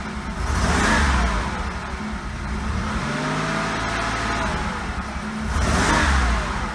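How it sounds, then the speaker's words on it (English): An Oldsmobile Ciera engine, misfiring and popping, revs up and settles twice, rough and uneven, loud and close with a rumbling, sputtering character. "the engine idles differently than it used to, but it's still doing that pop."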